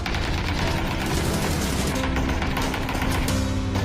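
Dense, continuous bursts of M762 assault rifle fire in the game PUBG rattle without a break, loud and close, with no talking.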